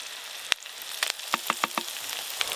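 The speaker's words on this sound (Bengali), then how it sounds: "এইরকম নরম করে ভেজে নিয়েছি" Chopped onions softened in oil in a pan, a faint steady sizzle punctuated by several sharp clicks and scrapes of a utensil stirring, with no talk.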